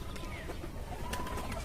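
Pigeons coo softly amid a rooftop flock of roughly eighty to ninety birds, with faint chirps and rustling over a steady low background hum.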